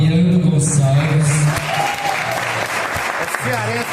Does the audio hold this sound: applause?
yes